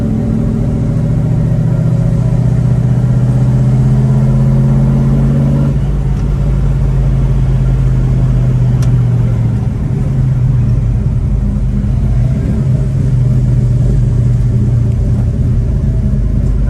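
Steady loud low rumble of a 1967 Chevelle SS engine while driving, the tone shifting slightly as it cruises, with no talk over it.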